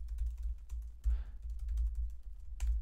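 Code being typed on a computer keyboard: quick, irregular clicking keystrokes close by over a low steady hum, with no voices.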